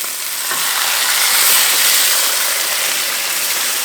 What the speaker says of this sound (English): This sauce is already hot, so it's already boiling.